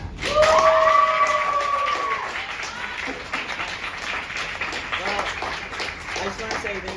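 A club audience gives a round of applause, steady dense clapping running the full seven seconds at a fairly loud, even level, with some tonal voice or music sounds faintly mixed in over the first couple of seconds.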